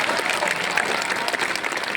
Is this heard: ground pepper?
no